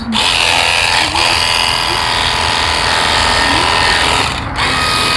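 A cordless pressure washer running on Dewalt 20V batteries makes a loud, continuous hissing spray and motor drone, close by, with two brief dips where the flow falters.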